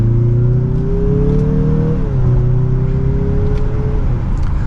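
A 2023 Mazda CX-50 Turbo Premium Plus in sport mode pulls hard, its turbo engine droning and climbing in pitch, dipping briefly at a gear change, then rising again, loud and close with no talk.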